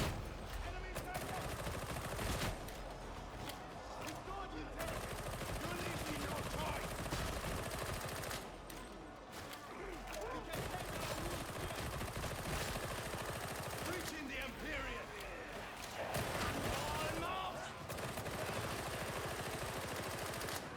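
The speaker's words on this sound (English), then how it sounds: "Don't know what I'm shooting at, but, you know, I have faith that my bullets will find their way." Rapid gunfire in Warhammer 40,000: Darktide, dense loud bursts of automatic shooting filling nearly the whole stretch with only brief gaps between volleys.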